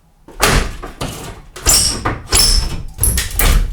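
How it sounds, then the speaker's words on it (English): An existing left-hand interior door being taken off its frame during a drywall renovation, heard as a series of loud wooden knocks, thumps and bangs arriving in irregular bursts, close by. "So we'll remove this door."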